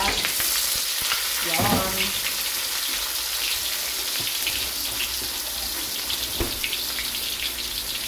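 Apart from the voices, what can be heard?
sautéing sardines with garlic, onion and tomato in a pan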